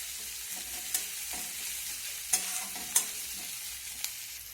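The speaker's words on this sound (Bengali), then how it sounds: "কাঁচা লঙ্কা কুচিটা দিয়ে আরেকটু নাড়াচাড়া করে ভেজে নেব" Chopped green chillies frying in a pan for egg chowmein, a soft steady sizzle broken by a few sharp spatula scrapes and clicks as they are stirred, close and with no voices.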